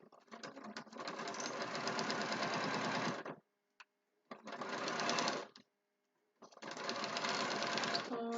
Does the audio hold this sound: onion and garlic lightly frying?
no